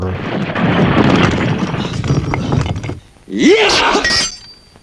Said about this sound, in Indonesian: Kebo Abang terus menghajar Jaka Mandala hingga terlempar menghantam tembok Kadipaten sampai hancur.